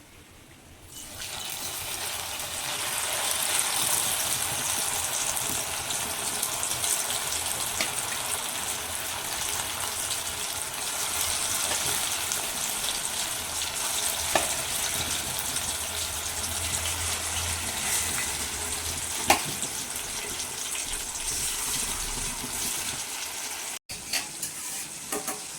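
A second batch of chicken 65 deep-fries in hot oil at home, a close, continuous bubbling sizzle that holds steady for the whole stretch, with an occasional stir or clink and no talking.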